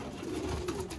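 A pigeon in a loft gives a low, steady, throaty coo, close by and continuous for the whole moment.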